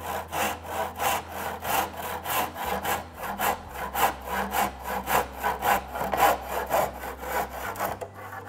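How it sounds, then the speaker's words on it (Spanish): Hand saw cutting a delicate wooden moulding, the blade held parallel to the material, giving a steady run of rhythmic back-and-forth rasping strokes, close and clear with no talk. "una forma muy limpia y eficaz para cortar una moldura que es delicada"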